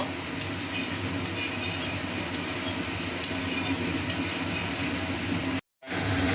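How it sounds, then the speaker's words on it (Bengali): A utensil stirs prawn and taro leaf curry in a pan with spices, making a steady close scraping and clinking that runs continuously before a brief dropout near the end. "আর একটুখানি আমি নেড়ে তারপরে আমি নামিয়ে নেব"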